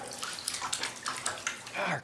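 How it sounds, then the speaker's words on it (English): Water from a sink tap gushes and splashes close by in irregular bursts over a couple of seconds, with a voice briefly heard in the background. "Quick, get over to the sink and run the water."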